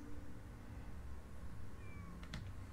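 A cat meows in the video game Copycat, one short faint meow rising near the end over a quiet ambient game background.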